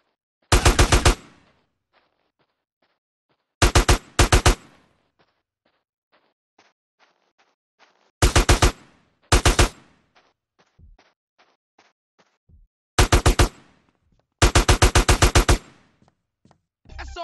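Bursts of automatic gunfire from the video game GTA San Andreas Definitive Edition, six loud rapid volleys at irregular intervals, with faint scattered clicks and thuds between them and no talk.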